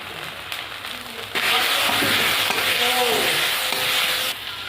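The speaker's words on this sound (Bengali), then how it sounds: "অল্প একটু জল দিয়ে মশলাটা কষিয়ে নেব" Spice paste with onion, salt and turmeric sautéing in a pan for rui fish kalia, a steady close sizzle and fry that swells louder midway as it is stirred, no talk.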